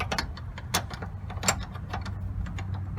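Line wrench tightening the fuel filter nut on a 1995-2002 Chevrolet Cavalier, producing irregular close-up metallic clicks and scrapes over a low steady hum.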